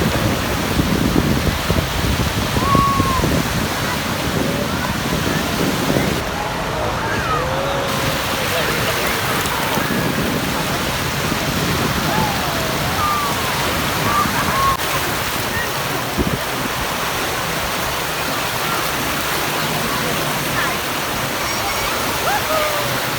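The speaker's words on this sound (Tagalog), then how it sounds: "Lakas na ng alon." Steady roar of strong surging waves and surf at Kite Beach, Dubai fills the scene throughout, with voices speaking over it and occasional shouts.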